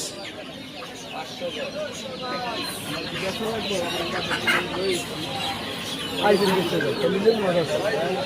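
Desi chickens cluck and squawk together at a village poultry market, close and busy, with faint crowing in the mix and people talking over the birds.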